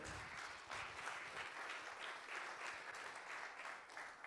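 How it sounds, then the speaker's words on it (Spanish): A church congregation claps steadily and continuously during a sermon, a soft, distant-sounding wash of applause throughout. "Dele un aplauso al Señor, por favor."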